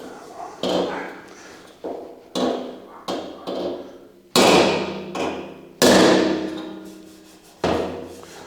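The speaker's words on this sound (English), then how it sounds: "I am going to smack it with a hammer" Bodywork hammer smacking a metal surface flat while fitting an EFI system, with a series of sharp, loud blows at irregular intervals, some spaced apart and a few harder strikes ringing briefly, close up with no talk.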